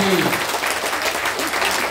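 Sustained applause from a crowd at Prashant Kishor's public gathering, dense, continuous and fairly loud, holding steady throughout with no pauses.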